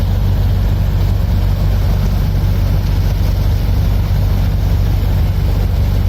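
A working boat's engine drones steadily with a deep low rumble as it passes on the River Severn, loud and close, constant throughout with no voices.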